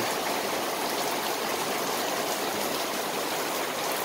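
Typhoon Kristine's heavy rain falls in a steady, even roar like rushing water, close and unbroken throughout, with no one speaking.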